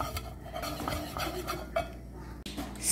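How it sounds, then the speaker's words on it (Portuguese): A halved garlic clove is rubbed around the bottom of a fondue pot for Emmental and Gruyère cheese fondue, giving soft scraping and light clinks against the pot, close and moderately quiet. "você corta um dente de alho ao meio e passa no fundo da panela"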